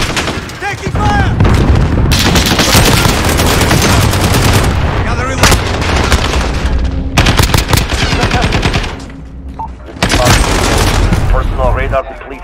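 Rapid automatic gunfire and booming shots from a Modern Warfare multiplayer match, loud and dense in long sustained bursts with brief lulls, while voices call out over the shooting.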